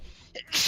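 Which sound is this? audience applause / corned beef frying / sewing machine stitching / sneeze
sneeze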